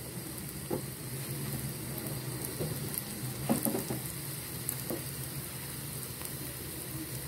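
Steady sizzle of crispy potato finger pops frying in hot oil, continuous and moderately loud, with a few occasional stirring knocks and clinks over the constant crackle.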